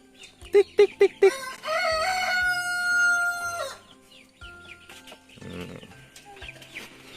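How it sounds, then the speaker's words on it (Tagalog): Chickens and roosters at a poultry farm in Batangas: a rooster crows long and loud near the start, with a few sharp clucks and scattered hen calls after, and a person speaks briefly nearby. "yan yung poultry business ng Daddy Lolo"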